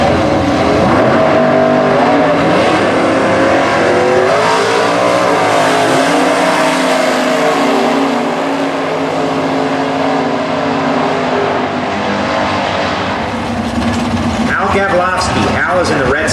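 Super Gas drag cars, including the Seafoam machine with its green open top, launch side by side at Starbuck, Minnesota, with loud, sustained engine roars under an announcer's voice.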